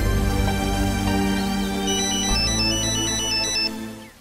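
A phone ringtone plays a bright melodic tune for about four seconds over a steady tonal backing, loud and alone with no talk, fading at the end.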